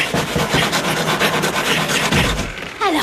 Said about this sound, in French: recule-toi pendant que je découpe le cylindre